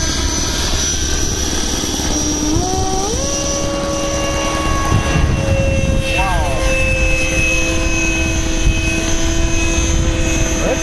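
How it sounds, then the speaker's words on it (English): A model F-16 jet takes off with a loud, steady engine whine whose pitch climbs as it speeds up, heard up close the whole time. "How the F-16 taking off."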